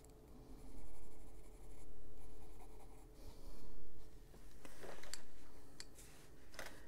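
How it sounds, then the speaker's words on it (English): Colored pencil strokes scratching across a paper coloring page, a soft continuous scribbling that swells and fades in repeated passes, close and moderately quiet with a few sharper ticks near the end. "So we just put the white back on there and go over it with pencil."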